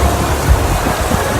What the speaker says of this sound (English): And it's a downpour.